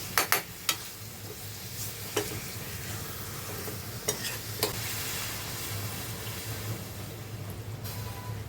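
Jitada fish is stirred into cooked grated coconut in a pan, giving a continuous sizzle with a few sharp scraping clicks of the spoon, mostly early on.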